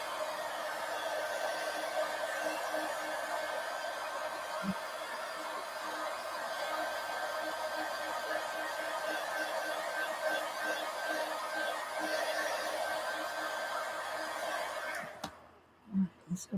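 A hair dryer blows steadily for about fifteen seconds to dry paint on a small painted surface, a continuous close-up whooshing drone with a faint whine, then clicks off and leaves a few quiet handling noises.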